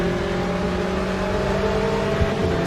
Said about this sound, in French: Elle a bien réaccéléré quand même la Porsche par rapport à l'instant.